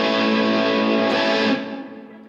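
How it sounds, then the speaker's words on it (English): An electric guitar played through a Joyo US Dream distortion pedal gives a sustained, saturated chord that rings loudly for about a second and a half, then fades away alone. "I even hooked up the extra one, the Joyo US Dream distortion pedal."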